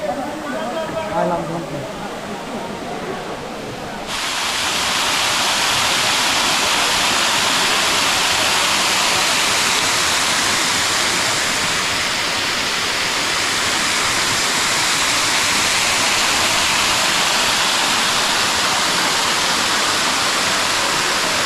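Moti Jharna waterfall in Jharkhand roars as a loud, dense, continuous rush of falling water. A brief opening stretch is quieter, with a voice faintly audible before the full roar takes over.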